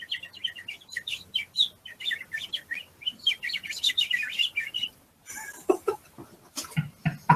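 A human voice imitates the chirping of the Tweety Bird cartoon character, rapid high tweets in a long rhythmic run, close and clear, ending with a few lower vocal sounds.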